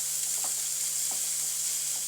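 A steady, bright frying hiss rises from an onion mixture with finely chopped curry leaves being sautéed in a pan, with a few faint utensil taps over the sizzle.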